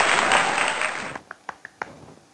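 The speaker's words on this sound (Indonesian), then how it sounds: "Kasih tepuk tangan dulu dong buat Aisyah." A short burst of applause from a small group, fading out into a few scattered, separate claps.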